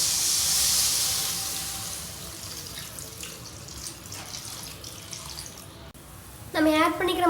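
Water is poured into masala frying in a pan for chana masala: a strong gushing rush at first, then a softer hissing simmer. A short voice comes in near the end.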